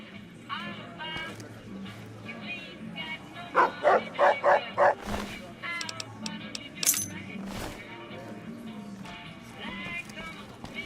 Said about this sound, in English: Hey, isn't that the King's dog?